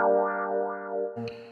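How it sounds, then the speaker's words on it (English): A sustained, sweeping guitar tone whose pitch and brightness rise and fall in slow waves, ending with a short pluck, heard alone. "There's also this wah-wah guitar right here."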